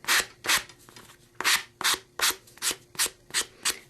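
A sanding block rubs along the paper edge of a chipboard-covered mini album, giving about ten close, rhythmic rasping strokes with brief gaps between them and no talk.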